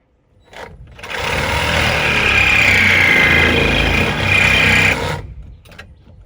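A power tool cuts off a bolt nearby, a loud sustained whining grind lasting about four seconds with a high metallic squeal partway through before it stops.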